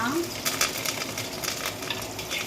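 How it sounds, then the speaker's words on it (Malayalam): Onion, ginger, green chili and curry leaves sauté in hot oil for a Kerala fish curry, an even close sizzle broken by quick stirring scrapes, with a brief low voice near the start. "ഉള്ളി ഏകദേശം വഴണ്ടിട്ടുണ്ട്"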